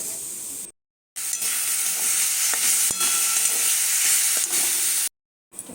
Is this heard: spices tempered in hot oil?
yes